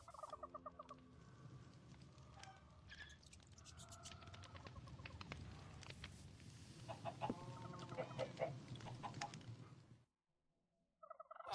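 A Minecraft chicken clucks again and again in a modded game world. The clucks are close and fairly loud over a low, steady game background, then stop abruptly near the end.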